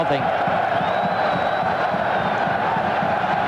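A packed football stadium crowd at a 1997 World Cup qualifier between the Netherlands and Belgium, loudly chanting a player's name in a steady rolling roar that carries throughout, with a commentator's voice faintly over it.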